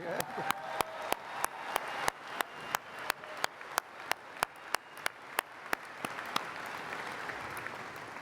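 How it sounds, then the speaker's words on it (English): Audience applause fills a college graduation ceremony hall, a steady wash of many hands clapping with sharp periodic claps standing out, gradually settling into a softer sustained patter. "Let's give him another round of applause again."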